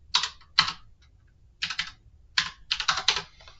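Bursts of computer keyboard typing, quick clusters of close, crisp key clicks separated by brief pauses, as an expression is entered into the Desmos calculator.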